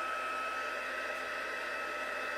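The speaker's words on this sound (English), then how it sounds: "So now we're just going to emboss it with our heat tool." An embossing heat tool blows hot air over white embossing powder to melt it, a steady, close whooshing roar like a hair dryer that stays even throughout with no other sounds.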